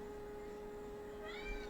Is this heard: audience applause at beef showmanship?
no